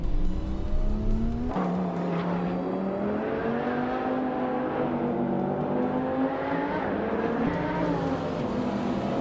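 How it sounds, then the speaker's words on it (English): Lamborghini Murcielago SV race car engine in a racing video game, roaring steadily with rising and falling revs through gear changes, loud and close throughout, with a brief dip and shift around the middle and no speech. "driving a Lamborghini Murcielago SV, the same model as mine"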